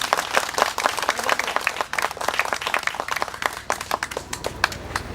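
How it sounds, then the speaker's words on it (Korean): An indoor audience at a memorial ceremony claps together, a dense burst of many hands that stays loud and lively for several seconds, then thins slightly toward the end. "오래오래 사시도록 우리 박수 한번 좀 보내주시죠"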